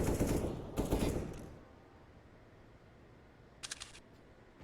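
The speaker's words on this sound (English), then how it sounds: "He's brought out a goddamn auto sniper right now." Auto sniper rifle fire in Counter-Strike: a few heavy, sharp shots up front, then a quiet stretch before a faint rapid double burst near the end.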